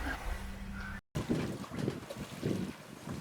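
Wind buffets a sailboat under way off Sulawesi, a steady rushing roar with microphone gusts and low rumble from the water, briefly cut by a moment of silence.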